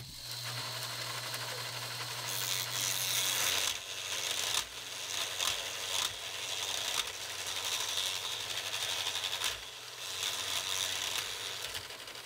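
A homemade LEGO shredder chews through a sheet of thick printer paper, giving a continuous loud grinding, rattling and tearing noise with bursts of higher crackle, running throughout with no speech.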